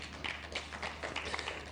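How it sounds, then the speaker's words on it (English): Forum audience applauding a speaker, a thin, fairly distant patter of clapping hands that stays steady and fairly faint throughout. "Please give him a round of applause."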